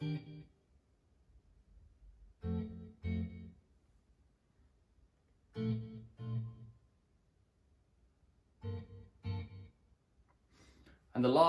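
Electric guitar rhythm for a song, played through an eighth-note-triplet delay: short muted chord stabs land in pairs with silences between, moderately loud and close, and a brighter swell rises at the end.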